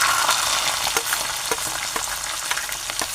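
Onion and tomato frying with mushrooms in a pan, a loud, dense, continuous sizzle with regular soft scrapes of a stirring spoon roughly every half second, close up and with no voices.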